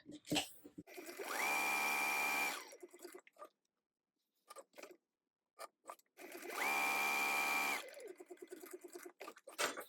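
A sewing machine topstitches a fabric strap in two steady, buzzing runs of a few seconds each, separated by quiet handling clicks and taps.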